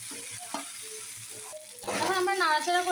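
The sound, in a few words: noodles stirred with coriander leaves in a frying pan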